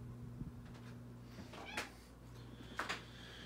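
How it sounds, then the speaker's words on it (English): A pet cat meows for attention indoors in a dim bedroom, giving two or three short, fairly quiet meows over the steady hum of a ceiling fan on low speed. "there's my cat Bella, who just always begs for attention every time I come home from work"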